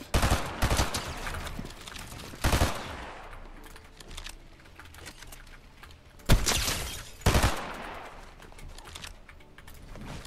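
Weapon fire in the Fortnite video game comes as several sharp, loud bursts and rattling volleys spread through the stretch, separated by quieter gaps.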